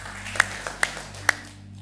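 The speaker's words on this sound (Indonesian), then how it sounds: "Tepuk tangan buat Tuhan Allah kita." A church congregation at a morning prayer service gives a few sparse, sharp hand claps, three distinct slaps spaced across a quiet room with a low hum beneath.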